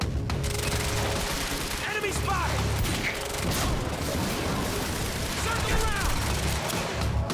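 Heavy gunfire and a grenade blast in the action game Quantum Break, sustained loud bursts and booms throughout while someone talks over the combat.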